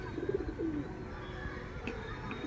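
Pigeons kept for racing and sale, yellow-eyed birds feeding in their loft, give soft, faint coos in the first second over a quiet room background.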